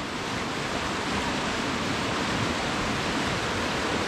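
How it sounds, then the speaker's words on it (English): A river in Edzell, Scotland rushes over rocks in a dense, steady roar that stays constant and close the whole time, with nothing else heard. "Such a show of river and rock."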